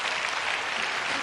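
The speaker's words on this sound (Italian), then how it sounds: "Qua ci vuole l'applauso con tutto il rispetto" A studio audience at a television variety show bursts into applause, a dense, even roar of clapping, loud and continuous for about a second.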